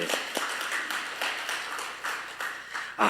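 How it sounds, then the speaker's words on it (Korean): A church congregation at a Sunday praise service applauds, a steady wash of many hands clapping at moderate distance, with a louder burst near the end and no speech over it. "박수 다시 한번 합시다"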